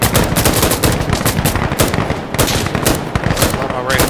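Rapid bursts of M249 SAW light machine gun fire in Insurgency: Sandstorm, loud and close, crackling in quick repeated strings across the whole span with brief pauses between volleys.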